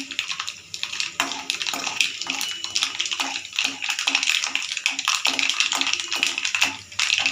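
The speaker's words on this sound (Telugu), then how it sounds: "ఇప్పుడు ఆవాలు బాగా చిట్టుపట్లాడాయి" Mustard seeds with a little raw chana dal frying in hot oil, popping and crackling in a rapid, continuous sizzle with sharp spits throughout.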